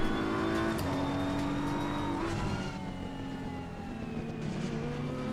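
A Ferrari race car engine in the Assetto Corsa Competizione racing game gives a continuous mid-level drone, its pitch rising and dropping through gear changes. It sounds steady and somewhat distant.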